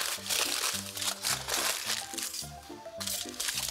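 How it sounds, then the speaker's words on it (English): A sheet of aluminum foil crumpled by hand, a close burst of crisp crackling and crinkling in irregular bursts, with faint tonal hum and possible low speech under it. "crumple up a piece of foil, lay that on top"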